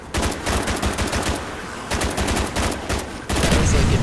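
Rapid, loud automatic gunfire from the Zeus Cannon in Call of Duty zombies on the Kino Der Toten map, near and sustained in dense bursts with a brief pause before a final heavier volley.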